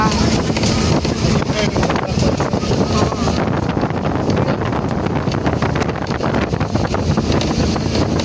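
Wind sweeps through a mango grove among coconut and banana trees, a loud, constant roaring rush with heavy buffeting on the microphone and no break across the stretch.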